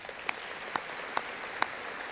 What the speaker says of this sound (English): Please join me in a round of applause for these individuals.